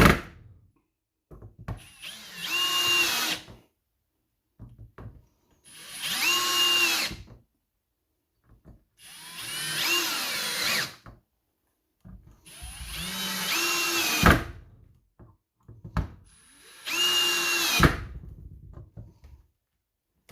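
A power drill drives screws into guitar wood in five separate bursts, each a loud whirring run a couple of seconds long with short pauses between, close by.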